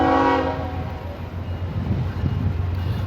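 A passing train sounds a loud, steady horn blast that fades out within the first second, followed by the low rumble and clatter of rail cars rolling by, moderately close, with no talking.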